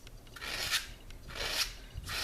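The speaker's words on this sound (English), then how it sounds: "I'm gonna take my sanding block, get a good grip on your composition notebook" A sanding block rasps back and forth across a composition notebook cover in three firm, scratchy strokes, each a close, gritty sweep with short pauses between.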